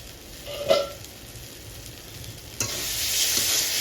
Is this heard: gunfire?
no